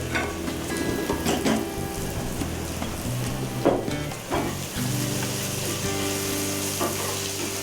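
Onions frying in oil for Chicken Manchurian, a dense close sizzle with intermittent stirring and scraping knocks against the pan throughout.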